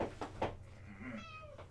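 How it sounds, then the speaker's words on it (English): A house cat meows softly a few times, with thin rising and falling calls following some low knocking, close by and without talk. "the cat's coming back"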